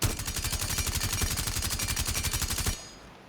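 A sustained automatic burst from Thatcher's rifle in Rainbow Six Siege hammers out evenly spaced, rapid shots for nearly three seconds, loud and close, then stops abruptly.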